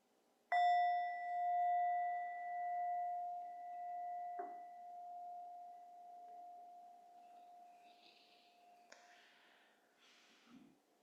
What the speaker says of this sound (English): I'm going to invite the sound of the bell.